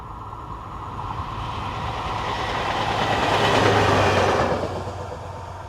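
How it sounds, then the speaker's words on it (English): An ex-German Class 211/212 diesel locomotive used on French infrastructure work passes with a steady rail roar and rhythmic wheel clatter, swelling as it draws nearest and then easing off. "Take these ex-German Class 211/212 diesels, used all over France on infrastructure work."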